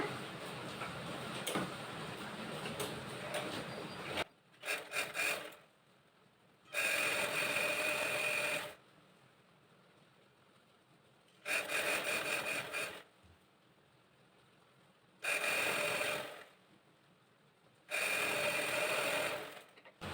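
A sewing machine stitching a chudithar pant in several separate bursts of steady whirring, each lasting a second or two, with quiet pauses between them and no voices.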